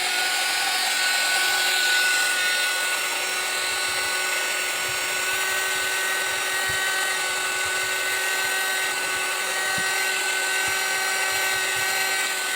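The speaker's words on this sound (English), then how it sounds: "take my wax and my heat gun" A steady, loud mechanical whir with a constant high-pitched drone from a heat gun blowing close by, holding unbroken throughout with no talking.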